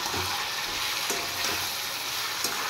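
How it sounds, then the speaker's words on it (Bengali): Chicken pieces for pulao sizzle and fry steadily in a pan with turmeric, cumin, coriander and chilli powder, a dense continuous crackle with occasional soft stirring scrapes, close and alone. "এবার মাংসটা একটু কষিয়ে নেব ভালো করে।"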